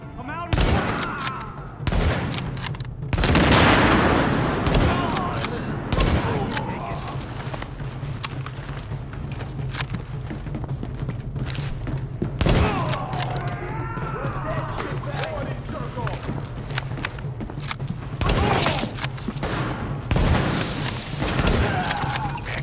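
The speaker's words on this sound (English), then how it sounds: "The escort party's taking heavy fire from the roof." Heavy gunfire rattles through a video game firefight in sustained volleys and sharp bursts, loud and close, with people talking over the shooting at times.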